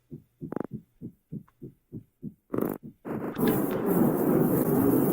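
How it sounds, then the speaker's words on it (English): A deep, thumping heartbeat in a horror video game beats in a steady repeated rhythm, then a loud rumbling roar swells in and drowns it out. "Did I hear a heartbeat in my background?"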